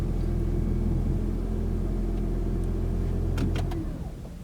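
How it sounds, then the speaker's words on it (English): A car engine running with a steady low rumble and hum close by, joined by a few brief clicks near the end as it drops off, with no voices. "Why did my car just turn back on?"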